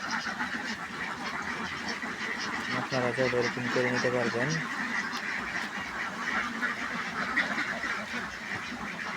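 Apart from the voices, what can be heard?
ducks quacking while bathing in water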